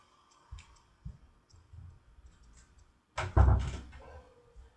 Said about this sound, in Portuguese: Eu só vou fechar a porta.